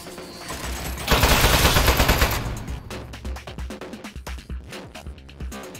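Rapid turret gunfire in the video game Aperture Desk Job, a dense burst that swells loudly after the first second, then breaks into a string of separate sharp shots that trail off.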